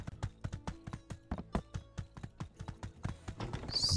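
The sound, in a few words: horse hooves clip-clopping, from video game My Time at Sandrock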